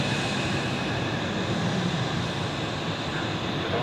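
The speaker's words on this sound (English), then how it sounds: "And now let's enjoy this Qatar A350, taxiing to runway 28 as expected." A Qatar Airways Airbus A350 taxis toward runway 28 at Zurich Airport, giving a steady, broad jet engine rumble that holds at an even level throughout with no voices.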